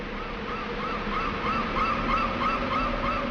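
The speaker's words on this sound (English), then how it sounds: "with only the sounds of seagulls in the distance and the sea air whistling past your ear" Seagulls call in the distance in the Banjo-Kazooie video game, a string of short squawks over a steady whistling sea wind, with no music and no talking.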